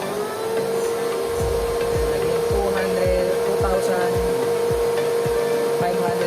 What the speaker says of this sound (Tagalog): So, sasabayan natin ng vacuum cleaner.